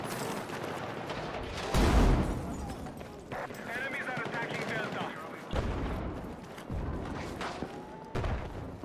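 Battlefield 6 gunfire, with repeated bursts of automatic shots and booming impacts during an online match, layered under game sounds and a player's voice talking throughout.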